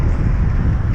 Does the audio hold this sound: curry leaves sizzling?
no